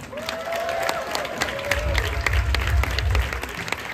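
An audience at a live cabaret show at Magic Melodies claps steadily, a full, even round of applause with a few louder claps standing out and a low rumble of crowd noise swelling midway.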